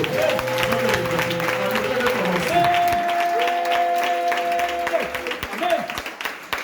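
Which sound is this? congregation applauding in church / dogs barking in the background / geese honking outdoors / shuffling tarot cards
congregation applauding in church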